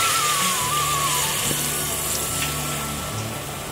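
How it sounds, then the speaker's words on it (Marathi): Water is poured into a pressure cooker over mutton frying in hot oil, giving a loud continuous rushing gush and sizzle that eases slightly toward the end, with no voices. "मटण बुडेल इतपत त्याच्यामध्ये थोडंसं पाणी घालायचं."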